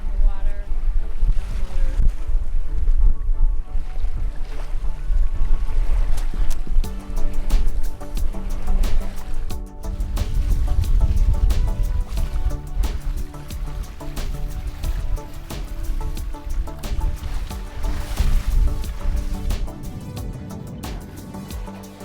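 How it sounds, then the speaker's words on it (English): A sailboat under sail slaps and splashes through the water for a long stretch, steady hull wash and surging waves under gusty wind buffeting the microphone, loud and close with no voices. "I love the sound of the sailboat splashing on the water"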